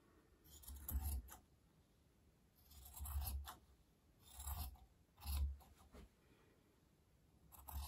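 Scissors slicing across velvet fabric for a full-length coat, a few quiet, separate rasping snips spaced a second or two apart, close and faint with no talking.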